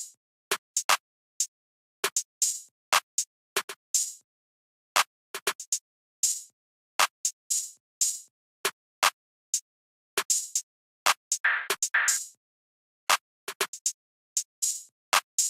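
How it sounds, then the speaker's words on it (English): Open hi-hat pattern from the Stash Kit Volume 2 drum kit, a sparse, syncopated run of short bright metallic hits with quick decays and gaps between, one longer washy hit near the end, heard alone. "I laid down this openhat pattern"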